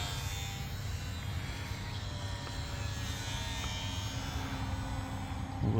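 The electric motor of a HobbyZone Sport Cub S 2 RC plane whines steadily in flight, a constant buzzing drone heard from a distance that grows slightly louder near the end.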